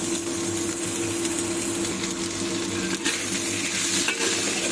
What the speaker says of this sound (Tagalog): Lagay yung ating baboy. Palabasin natin yung mantika, guys. Kasi may mantika pa siya.